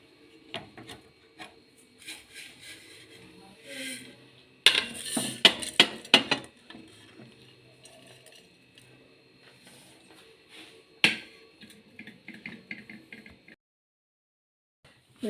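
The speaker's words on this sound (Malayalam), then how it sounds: "നമുക്കൊരു പാത്രത്തിലേക്ക് മാറ്റാം." Dry-roasted grated coconut, made without oil, scraped from a pan into a vessel: close, intermittent metal-on-metal scraping and clinking, with a dense flurry of scrapes in the middle and another sharp burst later before it falls quiet.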